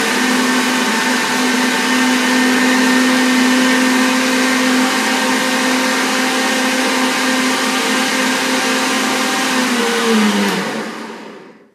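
A blender runs steadily and loudly for about ten seconds, whirring hazelnut cream tart filling into a smooth pudding, with a constant motor hum before it spins down and stops near the end.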